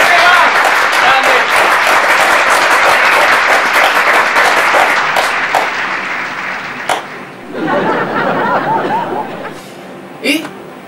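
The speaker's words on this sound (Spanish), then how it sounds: "Vamos a recibir con un fuerte aplauso a Esteban Alderete" Applause and scattered cheering from a television studio audience fill the room, fading partway through, then a second swell of clapping and voices near the end.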